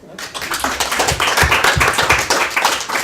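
Applause from a modest group at a talk, claps steady and dense right after a brief quiet start, with some louder individual claps standing out close by.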